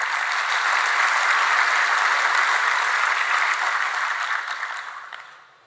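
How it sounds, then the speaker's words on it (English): An audience claps steadily at a cyber-policy talk honoring White House staff, the dense, even applause holding strong for several seconds before tapering off toward the end. "Give them a round of applause."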